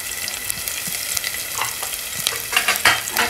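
Chopped onions fry in ghee over a high flame for pulao while a spoon stirs them, giving a continuous close sizzle with louder scraping, stirring bursts toward the end and no voices.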